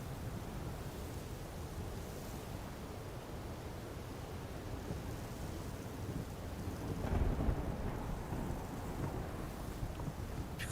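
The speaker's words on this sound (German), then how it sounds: "Oh, es braut sich ein Sturm zusammen." Thunderstorm in the video game Horizon Forbidden West: constant heavy rain and wind noise with a deep thunder rumble breaking through around the middle, then settling back to steady downpour.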